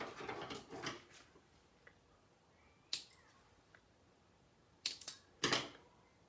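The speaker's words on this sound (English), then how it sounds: "So now I'll trim my edges." Paper edges being trimmed for a craft project, heard as a few sharp, close cutting snips and clicks spaced across a quiet background, with a flurry of rustling at the start.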